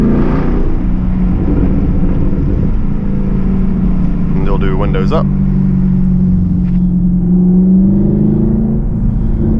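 A Chevrolet Camaro SS 1LE fitted with an MBRP axle-back exhaust drives at low speed in a neighborhood, its deep, loud drone filling the cabin steadily, while someone talks over it.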